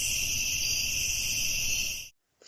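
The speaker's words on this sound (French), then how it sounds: "Font les cigales." Cicadas buzzing in a continuous, loud, high-pitched drone that cuts off abruptly near the end, followed by a brief quiet gap.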